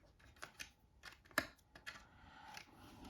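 Scissors snip along the top trim line of a clear RC car body for a Team Associated B7 build, giving a handful of quiet, close crisp cuts with one sharper snap in the middle.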